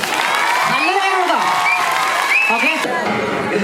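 A college audience claps steadily while excited voices and cheers rise over the applause, loud and close throughout.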